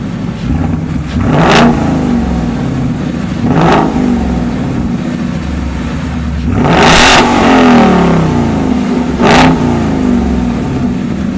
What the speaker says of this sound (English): I'm going to give it a couple of revs and see how that sounds